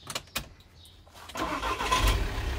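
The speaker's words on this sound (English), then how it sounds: "I need to start the engine for a second." A VW Transporter T5 van, automatic, cranks and starts after a few sharp clicks, its engine catching and settling into a steady idle, close and fairly loud.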